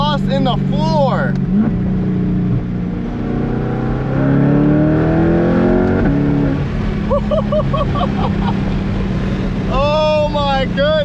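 Catless C8 Corvette fitted with a Paragon titanium exhaust, heard from inside the cabin as a deep, loud engine drone that swells as the car accelerates, with excited voices exclaiming over it.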